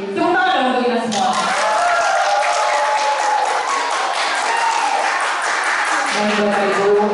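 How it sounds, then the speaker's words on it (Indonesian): An audience of university students applauds at a Komnas HAM campus event in Madura, broad continuous clapping filling the room while a voice speaks over it near the start and end. "Tepuk tangan dong untuk kita semua."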